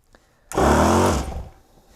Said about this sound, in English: when you turn this on, it's gonna build pressure, and what that's gonna do is it's gonna turn that switch off and kick the compressor off